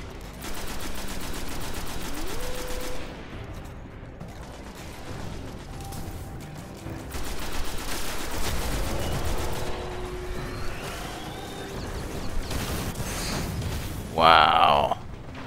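Rapid automatic gunfire blasts at a boss in the video game Destiny, bursts of shots and booms running almost continuously while players talk excitedly over the battle.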